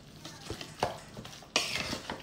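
Ingredients for mqila are mixed with olive oil in a bowl. The sound is quiet, close, wet stirring with a few scattered scrapes and clicks, growing a little busier toward the end.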